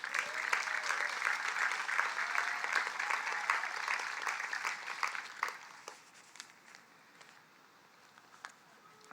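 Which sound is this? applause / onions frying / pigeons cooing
applause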